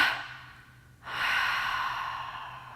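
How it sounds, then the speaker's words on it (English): A slow, breathy exhale during a meditation breathing exercise, split into two parts: a soft first push of air fades, then a brief pause is followed by a stronger, longer second breath out, heard close and alone. "As we exhale, we take 2 breaths out."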